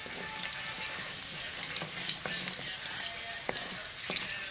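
Bay leaves and spices fry in a pan with a continuous, fine sizzle and a few scattered crackles and pops as they are stirred together.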